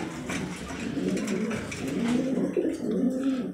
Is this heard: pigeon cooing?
yes